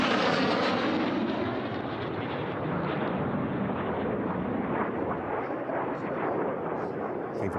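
A Fouga jet in a jet-class air race roars past at close range, a loud broad rushing blast that slowly recedes, with a commentator speaking over it.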